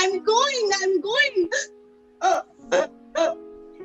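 A voice playfully imitates an elephant's hiccups in a children's stick puppet story, first as a run of squeaky, wavering hic sounds, then three separate loud hiccups after short pauses.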